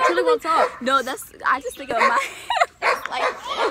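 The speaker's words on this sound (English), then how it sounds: "And you might hear a lot of barking." Dogs bark and yip repeatedly in the background while people talk over them.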